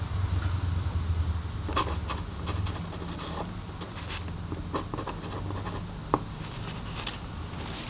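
Scissors snip through light iron-on interfacing fabric during skirt pattern cutting, giving a few soft, scattered cutting strokes over a low steady room hum, faint and close.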